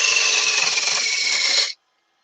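A parting tool on a wood lathe cuts straight into spinning wood to make a turned Christmas decoration, a loud steady high-pitched scraping whine that holds evenly, then stops abruptly into silence.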